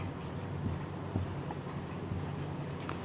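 Chalk or marker scratching steadily across a classroom board during a Hindi-language English grammar lesson, close and continuous with a faint room hum and no talk over it.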